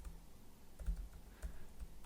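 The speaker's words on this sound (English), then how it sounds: "I can type in that same URL" A website address is typed on a computer keyboard as a few quiet, close key clicks in quick succession, faint and without talk.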